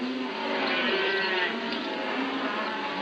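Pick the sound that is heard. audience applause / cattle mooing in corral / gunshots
cattle mooing in corral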